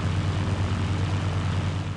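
Airplane engine in the video game Battlefield 1942, a loud, steady, low propeller drone with a throbbing buzz that holds constant throughout.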